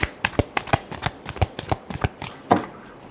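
Tarot cards are shuffled up close, a rapid series of crisp slaps and riffles in uneven bursts, with one sharper flurry near the end.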